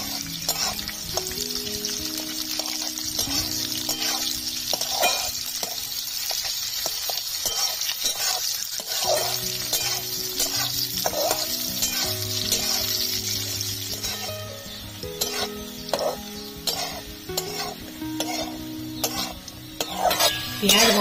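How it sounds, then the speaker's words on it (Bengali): Chopped onion frying with already-fried potatoes in a pan, cooked for a potato and drumstick-flower ghonto. A steady, close sizzle runs throughout, broken by repeated scraping stirs and the occasional clink of a spatula against metal, with no talking. "দিয়ে দিচ্ছি পেঁয়াজ কুচি, পেঁয়াজটা ভেজে নেব"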